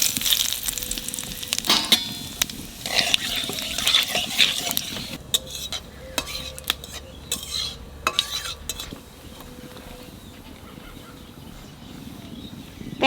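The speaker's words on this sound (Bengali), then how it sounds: "তেলের উপর কটা জিরে দেবো।" Cumin seeds fry in hot oil for a spiced chicken curry, a steady soft sizzle with light crackles and occasional clinks of a utensil against the pan, fairly quiet and close, with no talking.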